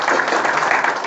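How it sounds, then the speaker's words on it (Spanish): Congregation applauding during a Christian funeral wake, a steady dense wash of claps at moderate level, close and sustained without a break. "Un aplauso para la vida."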